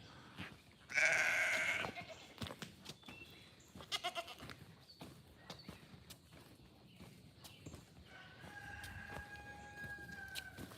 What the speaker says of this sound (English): Here's our Billy goat.